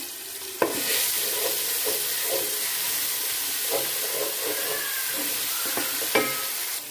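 Steady oil sizzle of garlic, ginger and chili frying in a pan, with occasional scrapes and clinks of a spoon stirring, close and continuous.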